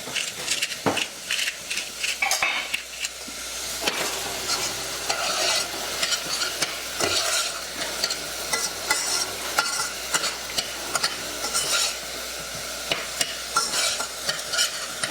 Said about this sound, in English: We're gonna let the onions saute for just a few minutes